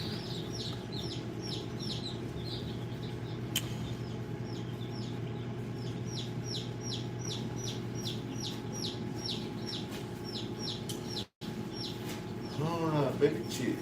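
Newly hatching baby chicks cheep in a steady series of high, thin peeps over a constant low hum of the incubator room, with a faint voice near the end.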